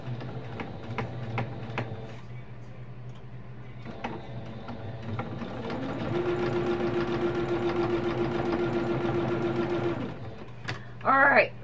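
A sewing machine back stitching curtain fabric runs in a steady buzzing burst for several seconds at moderate level, with quieter handling clicks before it and a short voice-like sound at the end.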